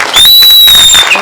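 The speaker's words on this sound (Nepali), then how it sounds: "सबैजनालाई एकचोटि जोरदार ताली दिदिनु होला" Audience applause at a talent show in Nepal, a brief, loud burst of dense clapping with a bright high tone running over it.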